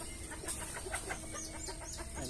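Hybrid jungle fowl cluck softly in a farmyard coop, a series of irregular short clucks over a steady hiss of background noise, with no voices.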